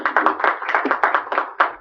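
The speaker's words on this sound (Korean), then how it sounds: "우리 김진아 씨는 다시 한번 박수 부탁드리겠습니다" A small audience at a Korean anti-nuclear debate claps for Kim Jin-a, with close, distinct hand claps in a loose uneven rhythm and no talk over them.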